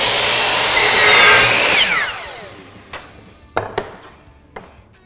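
A power saw whines through a wooden board set against a stop block, a loud sustained cut that winds down, followed by a few sharp knocks and clunks as the board is handled.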